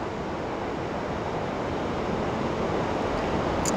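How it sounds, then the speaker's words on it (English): Rapids at Devil's Hole on the Niagara River roar in a steady, loud, broadband rush that never lets up, with some wind buffeting the microphone. "very dramatic in the rapids there"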